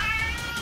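An angry domestic cat lets out a single short, harsh meow, close and fairly loud, lasting under a second.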